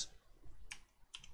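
HTML code is being typed on a computer keyboard, with a few quiet, close key clicks in small bursts over a soft background.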